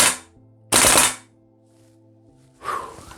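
Tokyo Marui Saiga 12 SBS airsoft replica firing, heard as a loud burst of mechanical action, a sharp bang near the start, then a quieter hum before another rough burst near the end, all with no voice.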